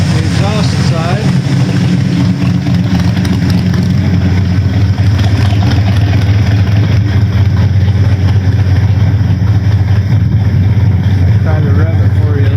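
A truck engine idles steadily with a deep, continuous exhaust rumble close by on the exhaust side, with a voice speaking briefly over it.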